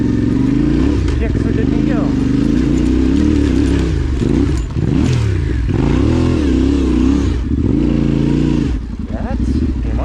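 A motorcycle engine revs and labours unevenly while riding off-road over steep spots, loud and close throughout, with someone talking over it.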